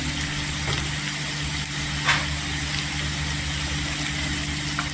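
Asafoetida sizzling in hot oil for an eggplant tempering: a steady, close hiss, unbroken throughout, with a low hum underneath and one faint tap midway.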